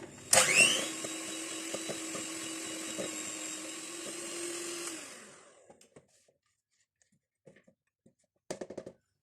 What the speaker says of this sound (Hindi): थोड़ा सा मक्खन को बीटर से बीट करने के बाद